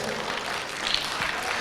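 A church congregation claps during a sermon, a brief wash of dense applause heard alone without speech.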